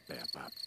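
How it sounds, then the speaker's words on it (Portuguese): Cartoon crickets chirp at night in two short pulsing bursts over a faint, steady high trill, quiet and close. "São os grilos criquilando,"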